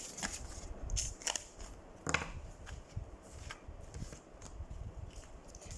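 Tarot cards are shuffled during a reading, giving soft riffling, flicking card sounds in quick bursts with sharper snaps, close and fairly quiet, with no talking over them.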